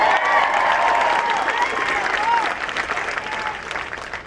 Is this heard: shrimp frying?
no